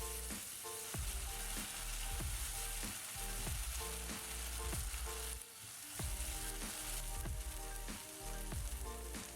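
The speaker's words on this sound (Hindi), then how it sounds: "इसके बाद जाएगा इसमें बॉइल्ड मटर और मेथी। मीडियम हीट पर इसको फ्राई करेंगे।" Boiled peas and fenugreek fry in a pan over medium heat, giving a steady close sizzle with soft stirring scrapes throughout.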